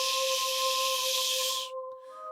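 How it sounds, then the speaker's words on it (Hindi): A sustained two-tone train whistle sounds over loud hissing steam. The hiss cuts off abruptly while the whistle tone lingers. "अचानक बाहर से ट्रेन की सीटी सुनाई दी।"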